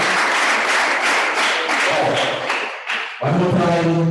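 An audience at a community education program launch applauds after a speech, a loud, dense burst of clapping that briefly thins before swelling again, with a voice starting to speak over it at the end.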